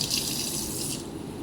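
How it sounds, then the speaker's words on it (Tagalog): Water pours steadily from a tap into a container in a home kitchen, a close, continuous hissing splash with no talk over it. "Kuha tayo ng tubig."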